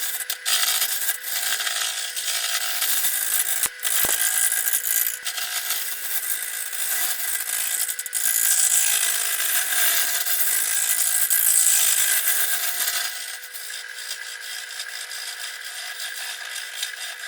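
A wood lathe turns an upside-down bowl blank at five times normal speed, giving a continuous bright, rasping hiss of the tool cutting wood, with a few sharp clicks early on and a slight drop in level near the end.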